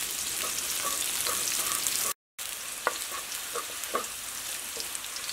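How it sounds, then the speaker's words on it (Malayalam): Green chillies sizzle steadily in hot oil for a Kerala sadya ginger curry, a dense, even frying hiss with a few stirring clicks, briefly cut to silence partway through. "നമ്മുടെ പച്ചമുളക് ഒന്ന് മുരിഞ്ഞു തുടങ്ങിയിട്ടുണ്ട്, ഒന്നും കൂടി ഒന്ന് മുരിയാനുണ്ട്"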